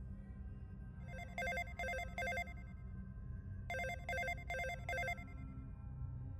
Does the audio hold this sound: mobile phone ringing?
yes